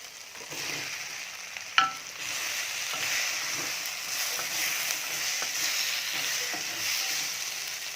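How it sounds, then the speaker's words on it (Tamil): Boiled raw plantain tossed into a pan of sautéed onion and tomato, giving a steady close sizzle with scattered stirring scrapes and one sharp clack near the two-second mark, no one talking. "வெங்காயம் தக்காளியெல்லாம் நல்லா வதங்கிடுச்சு இப்போ வாழைக்காய் போட்டுக்கலாம்"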